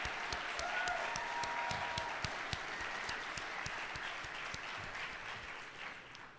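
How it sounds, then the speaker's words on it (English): Audience applause at the 2022 House of Providence Awards gala for past recipients, sparse individual claps standing out over a quiet, distant bed of clapping. "You can get on your feet now and take a round of applause from all of us."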